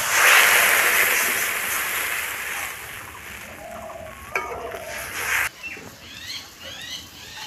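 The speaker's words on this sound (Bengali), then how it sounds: "এবারে জল দিয়ে দেব।" Water poured into a pan of sizzling fried masala for a Bengali fish curry sets off a loud hiss that slowly fades, followed by clinks from a spoon and a softer bubbling simmer.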